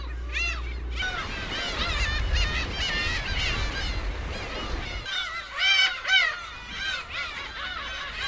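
Black-tailed gulls calling over the Chilsan islands off Yeonggwang, with repeated high, wavering cries overlapping in a busy chorus, set against a low rumble during the first few seconds.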